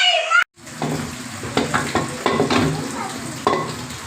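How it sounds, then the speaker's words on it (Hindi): Hot rotis being cooked on a village kitchen griddle, with soft sizzling and stirring, scraping sounds in a steady, close rhythm, a few sharper taps and clatters standing out over the low continuous hiss. "अभी बना लेते हैं जल्दी जल्दी से रोटियाँ"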